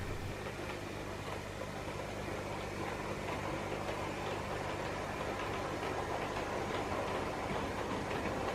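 A model railway locomotive hauling coaches runs along a layout, giving a steady, even rolling rumble with faint rhythmic clicking and no voices.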